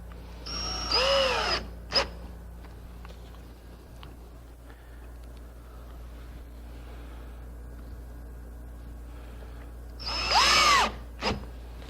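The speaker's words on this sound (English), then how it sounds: "Once you've laid out and you're drilling for these holes" A power drill bores holes in wood for a Shenandoah Valley quilt rack: two separate whirring bursts about nine seconds apart, each rising and stopping, with a quiet workshop hum in between.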